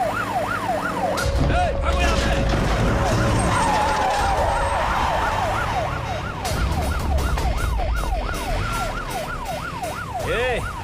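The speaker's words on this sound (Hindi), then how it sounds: "ये तो पुलिस का सायरन है।" An ambulance siren wails in a rapid rising and falling pattern as it approaches, loud and continuous over rumbling traffic and background score in a Hindi-dubbed action film scene.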